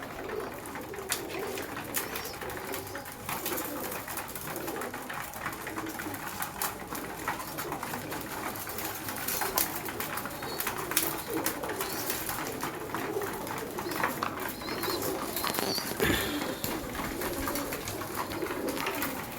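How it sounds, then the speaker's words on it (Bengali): Pigeons cooing inside a home pigeon loft, soft repeated throaty coos overlapping in a steady chorus at moderate distance, with faint rustling and no talking. "ওই যে দূরের আমার পায়রাগুলো, ওরা সবই অপেক্ষা করছে"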